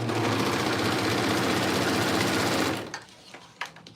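A home sewing machine runs steadily at speed stitching Oakley bottoms, a dense continuous whir that stops abruptly near the end, leaving a few light clicks and handling sounds.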